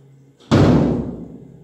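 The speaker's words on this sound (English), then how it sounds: "Close the lid" A single loud thud as a heavy lid slams shut, ringing briefly and fading out.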